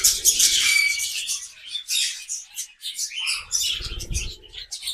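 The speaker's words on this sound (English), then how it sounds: "You may hear the male chirping more around the female" Budgerigars chirp and chatter in quick, overlapping bursts of high twittering, close by, with soft low rustling underneath.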